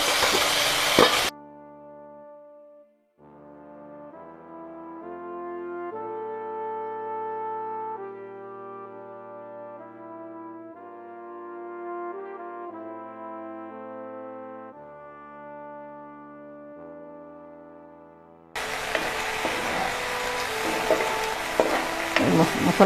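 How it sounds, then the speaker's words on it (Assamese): A ground paste of ginger, garlic and cumin fries in a pan, sizzling loudly for a moment at the start and again at the end, while calm melodic music fills the long stretch between. "মছলাখিনি ভাজি হ'ল"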